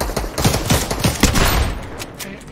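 Rapid bursts of automatic gunfire crack out in a video game, a loud close fusillade of repeated shots over a couple of seconds, fading slightly toward the end.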